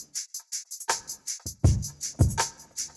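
A laid-back lo-fi drum loop from an Acade sample pack, with crisp rim shots and steady hi-hat ticks over soft kick thumps. It plays alone at a relaxed, even tempo, with no talking.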